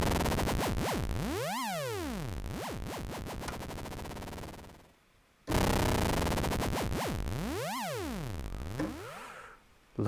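Clone of a Roland SH-101 analog synthesizer playing odd, weird sounds: loud bright tones sweeping down then up in pitch, cutting out briefly midway, then repeating the same swooping pattern, with no speech.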